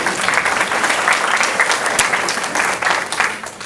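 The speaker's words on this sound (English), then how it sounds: "So a big round of applause to you for bringing this together." Audience applause at a senior-living information presentation, a dense steady burst of many hands clapping for several seconds, then tapering slightly.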